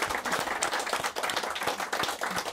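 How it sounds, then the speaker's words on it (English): Steady, dense audience applause for a Hall of Fame tribute, a continuous rattle of many hands clapping at close range with no break. "I think that deserves a round of applause, don't you?"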